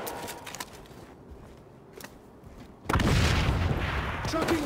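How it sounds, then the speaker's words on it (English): Grenade explosion in the video game XDefiant, a sudden loud broadband blast about two-thirds of the way in that stays dense and roaring, following quieter game ambience with faint distant shots. "Chucking grenade."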